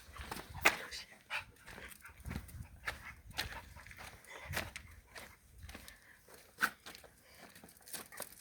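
A dog moves about outdoors on a walk during a hunt, with faint scattered sniffs, rustles and footsteps in a quiet setting, soft and irregular.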